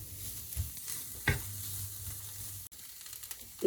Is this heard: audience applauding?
no